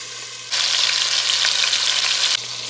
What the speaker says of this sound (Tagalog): Brown lang natin ang ating chicken.